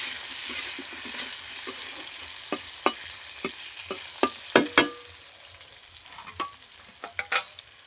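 Food frying in a pan with turmeric being stirred, a steady soft sizzle with sharp scraping clacks of a spoon against the pan at irregular intervals, close up and no talk.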